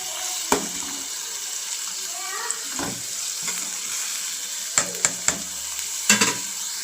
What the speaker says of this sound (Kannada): ಇದಕ್ಕೆ ಇವಾಗ ಈರುಳ್ಳಿ ಹಾಕಿ ನಾನು ಎಲ್ಲ ಚೆಂದಾಗ ಫ್ರೈ ಮಾಡಿರಿ